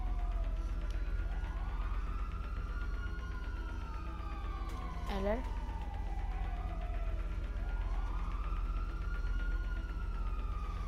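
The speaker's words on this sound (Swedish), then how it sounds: "Nu kommer en polisbil där." A police car siren wails in rising and falling sweeps as it passes, a brief burst of different siren tones in the middle, over steady traffic rumble, with a short spoken word.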